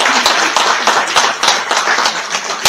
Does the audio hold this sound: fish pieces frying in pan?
no